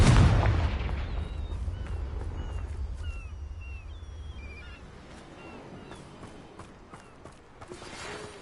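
Spell explosions from Bombarda and Confringo in the Hogwarts Legacy video game: a heavy booming blast at the start fades into a long rumbling decay, with scattered magical chirps and light crackles.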